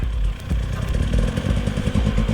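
KTM enduro dirt bike engine on a hill climb, a loud, close, chugging motor with rapid firing pulses and slight revs, steady throughout the short moment.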